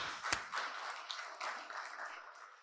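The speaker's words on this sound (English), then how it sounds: "Let's give him a round of applause." A conference audience gives a short round of applause, quiet scattered clapping that fades out within a few seconds.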